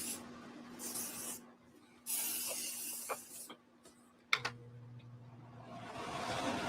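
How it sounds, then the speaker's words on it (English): Hairspray hisses out of an aerosol can in a few short bursts, one longer spray among them, close by in a quiet room, with faint thumps and small handling noises between sprays. "I think I like this hairspray."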